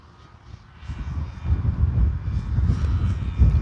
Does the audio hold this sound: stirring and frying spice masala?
no